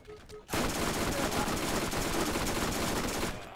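A submachine gun in Borderlands fires a long, loud, unbroken burst that starts abruptly and runs for about three seconds before cutting off, with no voices.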